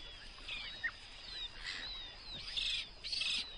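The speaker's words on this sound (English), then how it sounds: "A duckling." A cuckoo duck duckling gives high, thin peeps and short chirps in irregular clusters, clear and fairly close over quiet background noise.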